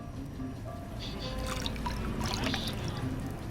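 In Fallout: New Vegas, water trickles and splashes steadily from a faucet, a soft continuous pour with faint drips over low background hum.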